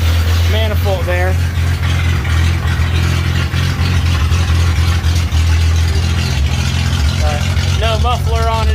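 A 1963 Rambler engine runs loud with no muffler, a steady rumbling drone that stays close and constant throughout, with someone talking over it.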